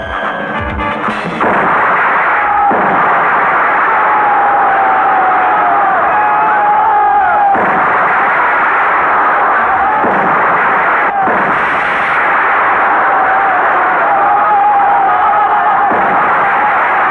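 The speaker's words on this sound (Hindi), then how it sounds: "बम से उड़ा दो सबको।" Bomb blasts and gunfire in an action scene from the 1990 Hindi film Shandaar, a loud continuous roar of explosions with sharp bursts recurring through a dense battle soundtrack.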